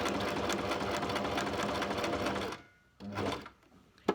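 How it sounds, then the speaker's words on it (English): A sewing machine runs a straight stitch along a fabric face mask with rapid, even needle chatter for about two and a half seconds. It stops, then gives a brief second burst. "I'm going to put my foot pedal down, and I am going to just use a straight stitch."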